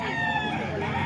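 Gamecock roosters at a Bocaue poultry market make a busy, overlapping din of clucks and crowing-like calls, with voices babbling faintly in the background.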